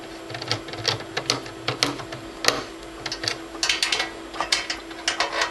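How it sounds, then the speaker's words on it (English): Small screw terminal on a BNC/power Siamese cable connector being tightened down, giving a run of light, rapid metallic clicks and ratcheting ticks in irregular bursts, close up with a steady faint hum underneath and no talk. "We're going to slide the connector in there and then screw it down so that it's secure."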